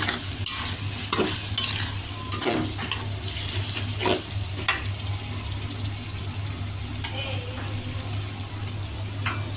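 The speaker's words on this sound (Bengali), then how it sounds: "আমাদের পেঁয়াজটা ভাজা হয়ে গেছে" Onions fry in a pan during home cooking, a steady close sizzle punctuated by scraping stirs and a few clinks, with a running-water tone underneath and no talking.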